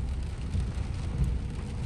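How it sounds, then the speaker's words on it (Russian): Steady rain during a winter storm in Israel, a dense continuous patter with low rumbling underneath, moderately loud and unbroken, with no voices. "Опять дождь спускается."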